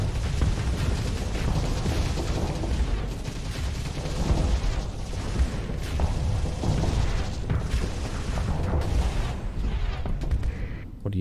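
Continuous barrage of missile explosions in the space combat game Starsector, dense overlapping booms and rumbling blasts filling the scene loudly from start to finish.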